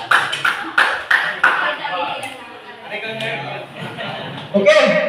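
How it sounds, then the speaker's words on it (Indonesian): A small group applauding after a session, a few sharp scattered claps at first, then softer mixed clapping and chuckles, with a voice speaking over the end. "tepuk tangan dulu untuk Bapak Nafi dan yang sudah bertanya"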